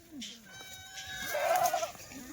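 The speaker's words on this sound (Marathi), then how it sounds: "पूर्ण जवानीच्या शेळ्या बघा" A young Kathiawadi goat in a clean shed lets out one quavering bleat, faint and moderately close, with other quiet bleats around it.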